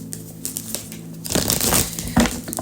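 Tarot cards shuffled by hand during a Capricorn reading, a soft papery riffling and rustle that grows louder midway, with a sharp flick near the end.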